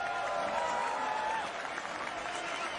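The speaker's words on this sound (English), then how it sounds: "You can hear the crowd. They want this teenager to continue." A stadium crowd roars steadily and applauds during a USA versus Serbia friendly soccer match, a dense, continuous wash of cheering without pauses.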